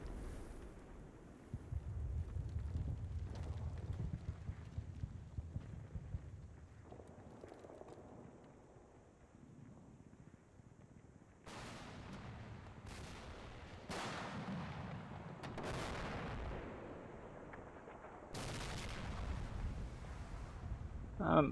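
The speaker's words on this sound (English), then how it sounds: "that sounds like more artillery coming in" Heavy artillery shells land in a World War II war video game: a low rumbling barrage, then a string of sharp, booming impacts with decaying tails, some close and loud, others further off.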